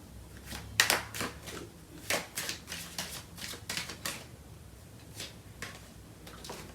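Tarot cards are shuffled by hand, producing a series of crisp, irregular snaps and riffles, close and fairly quiet, with small gaps between each burst.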